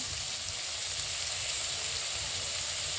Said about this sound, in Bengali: ভাজা হয়ে গিয়েছে এবার দিয়েছি রসুন বাটা